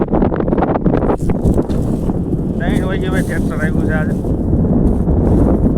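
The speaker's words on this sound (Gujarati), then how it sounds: "ત્યારે ભાઈ તમને થોડોક પવનનો અવાજ આવતો હશે." Wind blowing across an open farm field during a millet harvest, a loud broadband rush buffeting the microphone while someone talks over it.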